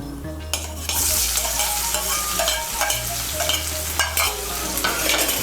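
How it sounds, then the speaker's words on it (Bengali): Chopped medium onion frying in hot oil in a pan while being stirred, for a rice and egg ghonto; a steady, close sizzle runs throughout with repeated scraping and stirring strokes and no voices. "তেলের সঙ্গে মিশিয়ে নিয়ে লাল করে ভেজে নেব"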